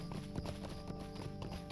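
Horse hooves clip-clopping at a steady, fairly quick rhythm while riding in the video game LOTRO, heard faintly under quiet ambient game music.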